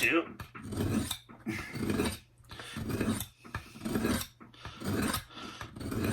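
A knife blade rasps in rhythmic back-and-forth strokes across a rock, about six close, gritty scrapes with short pauses between them.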